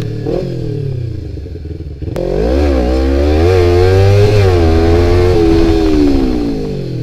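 A Kawasaki Ninja 250 motorcycle engine revs up and holds a loud, buzzing drone as the bike rides along, pitch rising and falling with throttle changes.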